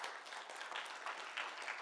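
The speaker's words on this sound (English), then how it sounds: "A big round of applause for sir." Audience applause at a 2023 AEME-CON conference, a steady wash of many hands clapping at moderate distance, fairly faint and sustained without talk over it.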